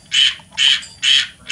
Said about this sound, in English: And I hear a frog.